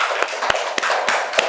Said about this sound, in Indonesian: Tepuk tangan untuk kelompoknya Rizca